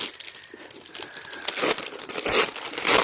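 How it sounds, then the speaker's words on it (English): Plastic packaging crinkles and rustles up close, with crunching bursts growing louder as it is pulled open. "at least it's plastic this time, so my scissors should be able to get through this"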